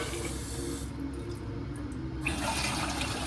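Water runs steadily from a tap in a hotel room sink, a continuous close hiss that swells brighter near the end.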